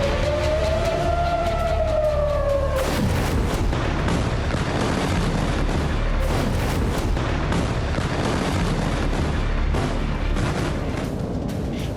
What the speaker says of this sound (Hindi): कतर की राजधानी दोहा में एक बार फिर धमाकों की आवाजें सुनी गई